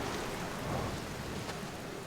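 Thunderstorm rain in the video game Outer Wilds, a steady dense hiss of rainfall with a soft low rumble underneath, continuous and even throughout with no voices.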